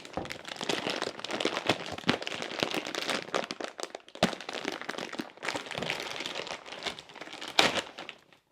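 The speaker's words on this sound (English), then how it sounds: "take it out of its plastic bag that it's in" Plastic crinkles and rustles continuously close up, with sharp crackles and pops as it is handled, a few brief pauses between bursts.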